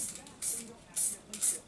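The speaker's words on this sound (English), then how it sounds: "going to spray around the whole stencil with white" White spray paint hisses from an aerosol can around a stencil in short bursts, three or four quick sprays separated by pauses, close and fairly quiet.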